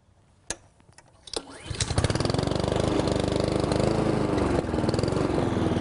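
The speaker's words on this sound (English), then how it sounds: "Start the mower." A lawn mower engine starts with a few sharp pulls and sputters, then catches and settles into a loud, steady running roar close by.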